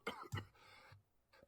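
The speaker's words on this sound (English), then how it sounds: "He starts coughing blood." A man's rough cough in a video game bursts out twice, close and loud, as he coughs blood, followed by a quieter strained gasp and a brief low groan.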